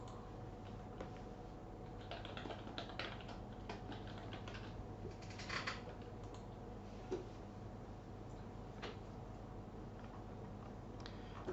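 Soft, faint keyboard typing, entering a keyword into a search tool, clicks along unevenly over a steady background hum, with a few slightly louder taps along the way.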